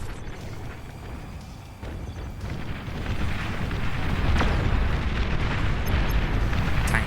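Explosions from bombers striking fusion reactors in the real-time strategy game Beyond All Reason, a dense rolling barrage of booms and crackling blasts that grows louder and more continuous, without talk.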